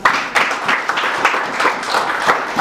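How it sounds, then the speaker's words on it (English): Audience applause at a financial services presentation, dense steady clapping from a crowd lasting throughout, fairly loud and close with rippling peaks. "Another round of applause."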